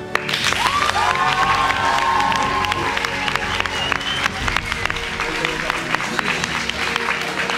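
Audience applause and cheering at the Koh-Lanta finale, a dense, steady wash of clapping with a few whistle-like shouts rising above it, holding for the whole stretch.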